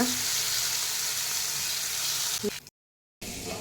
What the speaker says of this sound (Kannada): ಎರಡೂ ಬದಿಯಲ್ಲಿ ಚೆನ್ನಾಗಿ ಫ್ರೈ ಮಾಡಿ